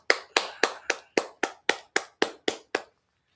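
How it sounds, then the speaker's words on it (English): Eleven sharp, evenly spaced claps from a small audience at the end of a class, loud and close with no voices, stopping cleanly after about three seconds. "So clap that up."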